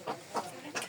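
Chickens clucking nearby in a yard with ducks, three short soft clucks spaced through a quiet moment.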